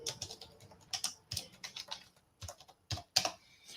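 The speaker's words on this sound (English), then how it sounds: "I am typing to you." Quick, uneven bursts of clicking keys on a computer keyboard, typed up close in a quiet room, with short pauses between runs of keystrokes.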